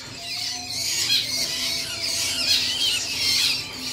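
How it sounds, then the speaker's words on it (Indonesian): Coconut squirrels (bajing kelapa) at a bird market squeal continuously in shrill, overlapping bursts, close by, with no voices over them. "Terus nih ada bajing kelapa"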